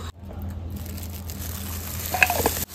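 Epoxy resin for a bookmark is stirred slowly in a cup, giving a soft, steady scraping swish throughout, with a few light clicks of the stirrer against the container near the end.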